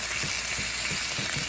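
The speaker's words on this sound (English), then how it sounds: "You can hear it sizzling." Bacon-infused venison burgers searing in a hot pan give a steady, dense sizzle with soft crackles, close and continuous throughout.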